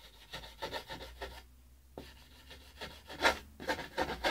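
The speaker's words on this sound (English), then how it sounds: "you take your half round file and just kind of get the rough shape going" A half-round file rasping on wood while shaping a part for a radio-controlled Catalina PBY seaplane model, quiet rhythmic strokes back and forth with short pauses, close to the microphone.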